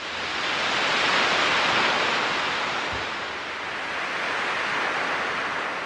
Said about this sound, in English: they are the waves at the sea and they are on the shore